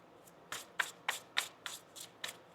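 Tarot cards shuffled by hand, a deck riffled in seven quick crisp bursts at an even rhythm, close and fairly quiet, with no talking.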